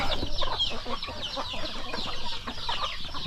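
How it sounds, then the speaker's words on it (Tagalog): Small chicks peep and free-range native chickens cluck continuously at close range, a busy overlapping chorus of high chirps and low clucks in a backyard flock. "Tulad yan o, mga maliliit na sisiw."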